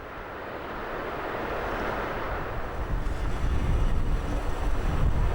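A Land Rover in low gear pushes into water with a rising rush of splashing and churning, mixed with wind buffeting the microphone, growing louder as it goes.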